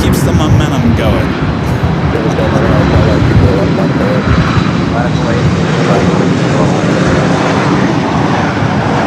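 JetBlue airliner at Los Angeles International Airport, a loud, continuous engine roar held steady throughout, with a voice talking over it.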